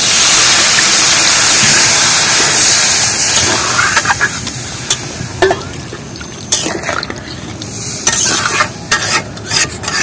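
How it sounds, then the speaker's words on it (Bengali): Water tipped into cooked chicken curry with saluk in a pan: a loud, steady hissing rush that gradually eases, followed by scattered clinks and stirring scrapes up close. "এবার কিছুটা আমি জল দিয়ে দেবো।"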